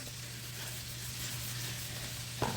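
New York strip steak sizzles in a hot pan, a steady close frying hiss with a low hum underneath and a brief clatter near the end.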